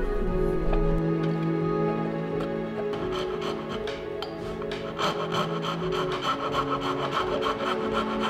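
A wooden half-blind wedged through tenon is cut by hand, giving a steady, close rasping saw stroke that repeats rhythmically at an even pace, with a faint tonal hum in the background and no talking.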